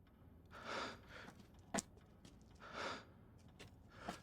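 A character in Resident Evil Village breathes heavily and quietly, with slow, rhythmic breaths in and out, two long swells with a sharp sniff-like catch between them.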